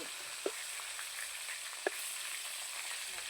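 Snakehead fish sizzling steadily in hot oil, a constant crackling hiss with a couple of brief louder pops, close by and without voices.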